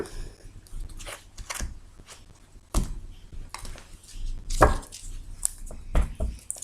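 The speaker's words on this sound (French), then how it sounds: "Je vais d'abord couper, bien sûr, le jeu." A deck of oracle cards is cut and handled, giving soft shuffling swishes and sharp card snaps at irregular intervals, close and quiet.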